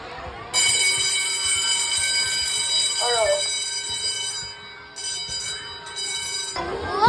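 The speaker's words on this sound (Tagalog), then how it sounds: "Kaya 10:10 ay mag-ring na ako ng bell." A school bell rings for the next class, a loud continuous electric ring that starts after a brief moment and runs for about six seconds with a short dip near the five-second mark, with faint background voices beneath it.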